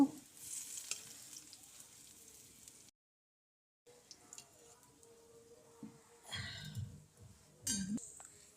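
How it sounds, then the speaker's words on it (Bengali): Sliced onions fry in oil in a pan until crisp and browned for chicken polao, a steady close sizzle that breaks off briefly, then returns with stirring scrapes and light metal clinks. "তেল নিয়ে এবার ওর ভিতরে পেঁয়াজগুলো দিয়ে দিব বেরেস্তা হওয়ার জন্য"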